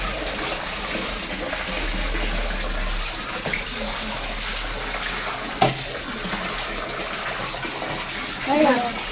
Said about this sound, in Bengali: স্নান